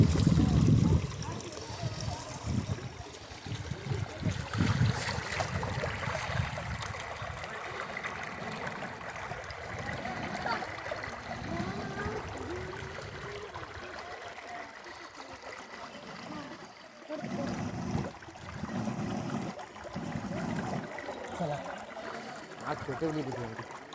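Water of the Kalmandavi waterfall stream flowing, a steady close rushing and trickling wash under intermittent talking and splashing movements.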